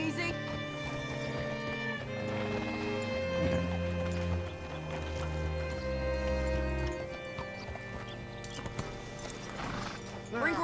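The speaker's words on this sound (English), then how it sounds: "Hitch your horse up here." A horse's hooves clip-clop in Red Dead Redemption II, sitting under a loud musical score and spoken dialogue, with the hoofbeats faint and partly masked.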